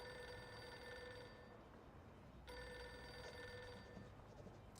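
A telephone rings steadily on an assistant's desk in an office scene of a video game, its repeating electronic bell tone filling the clip alone at a moderate, continuous level.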